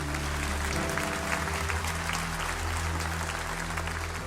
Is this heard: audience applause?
yes